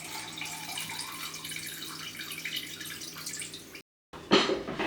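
Elderflower cordial liquid dripping and trickling through a squeezed sieve, a soft, close, steady patter of drips that stops briefly, then resumes with a louder splash.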